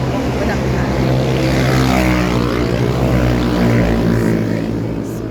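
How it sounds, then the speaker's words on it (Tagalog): Motorcycles and other vehicles on Quezon Road in the Philippines make a loud, continuous engine roar and whine that fills the whole recording, heard close by. "maingay yung mga motor. Vehicles."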